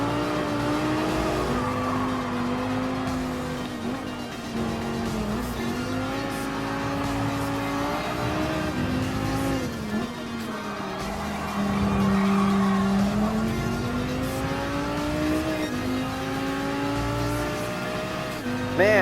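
A Lamborghini race car in Gran Turismo Sport drones steadily throughout, its engine pitch climbing and dipping through gear changes, with occasional tire squeal mixed under a continuous loud roar.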